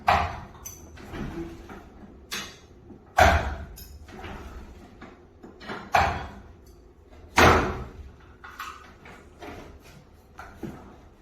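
An overhead garage door, about seven feet tall with newly replaced springs, is lifted and worked by hand, giving a run of loud, irregular thumps and rattling knocks with quieter rolling noise between them.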